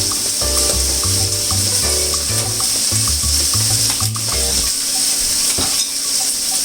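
Tofu and mushrooms sizzle in a frying pan with a constant hissing crackle, broken by a few clicking, clattering kitchen sounds.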